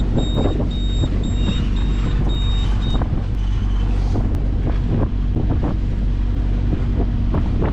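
Strong wind roars and buffets the microphone on a boat out on open water near a lee shore, a constant loud rush with engine-like rumble underneath and no speech.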